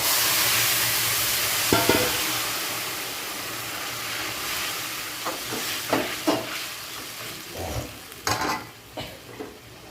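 Chopped fried egg pieces fry with onion and garlic in a pan, giving a steady sizzle and hiss with a series of scraping stirring knocks that grow more frequent toward the end, with no speech.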